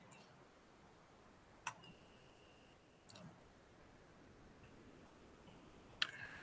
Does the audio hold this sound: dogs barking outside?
no